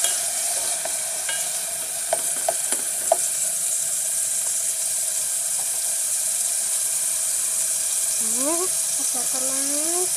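Tomatoes sautéing in a pan for ginisang patola, a steady bright sizzle with a few sharp utensil clicks early on and a brief voice near the end.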